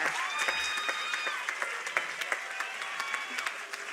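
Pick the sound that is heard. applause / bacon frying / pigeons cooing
applause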